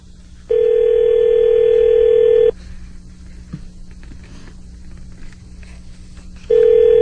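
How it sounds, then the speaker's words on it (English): Phone on an office line rings unanswered while calling the front desk: two long electronic ring tones, each about two seconds, separated by a quiet pause, loud and close with no talk. "Now she's not even going to answer the phone?"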